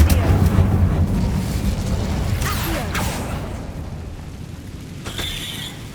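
In Hogwarts Legacy, the Incendio fire spell erupts in a loud roaring burst that fades gradually, with a few creaking, mechanical clunks following near the end.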